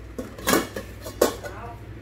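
Stainless steel pots, Japanese household goods, being handled and set down, giving two sharp metallic clanks over low background noise.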